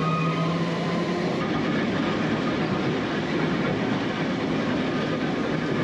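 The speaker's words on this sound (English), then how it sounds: "The radius of the curves on the line is pretty tight, and we squeal our way round and across the bridge over the glen." Manx Electric Railway tram rolling along the line, a steady loud rumble of wheels and running gear with a faint high squeal early on, continuous throughout with no talk.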